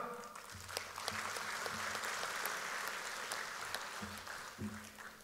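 Sustained applause from an audience at the UMNO president's policy speech fills the hall, steady and dense for the whole stretch, with a voice faintly audible beneath it.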